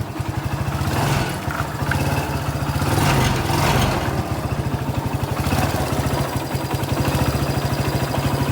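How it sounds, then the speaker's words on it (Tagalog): A Kawasaki Barako 175cc motorcycle engine idles steadily after an oil-starvation repair, a close, loud, even mechanical putter with a rapid regular firing rhythm and light clatter, running alone without talk. "paandarin natin mga boss para mapakinggan natin yung kanyang andar ngayon"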